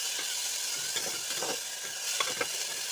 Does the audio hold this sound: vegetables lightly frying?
yes